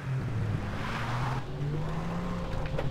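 Engine of a stolen jeep driving in the video game Far Cry 3, a continuous steady rumble with shifting pitch and faint tire noise, no talk.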